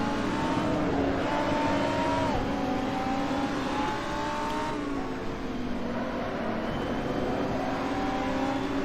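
A GT3 race car in Assetto Corsa, with an Audi R8 ahead at Mugello, holds a loud, steady high-revving engine drone that climbs through its gear, with brief pitch drops at shifts.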